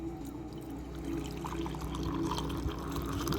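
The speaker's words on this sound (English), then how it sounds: "we'll do a long pour." A long, steady pour of liquid into a glass makes a close, continuous gurgling trickle that builds slightly as the glass fills and foams.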